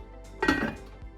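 A metal lid clanks once onto a pot of corned beef pasta, a short metallic clatter against a low background hum.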